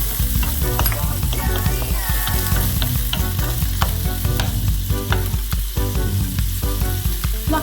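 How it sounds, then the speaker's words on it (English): Onions fry in a hot pan until browning, producing a loud, continuous sputtering sizzle broken by frequent stirring scrapes, with no voices. "Just with the onions until it's getting brown."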